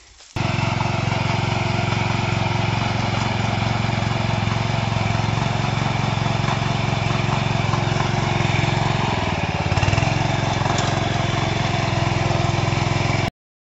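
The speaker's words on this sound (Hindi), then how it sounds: "सुबह सुबह उठ के मैंने ट्रैक्टर दौड़ा दिया खेत में" Tractor engine running in a farm field, a steady loud mechanical drone with constant low throbbing, close and uninterrupted for most of the stretch before cutting off abruptly at the end.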